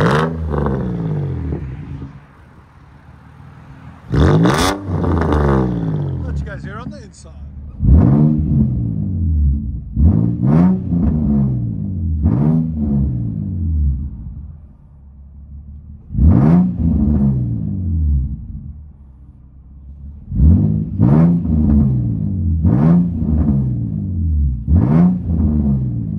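A Nissan 350Z with a true dual straight-pipe exhaust into 4.5-inch tips is revved hard and loud, about a dozen sharp blips rising and falling between quieter raspy idle stretches.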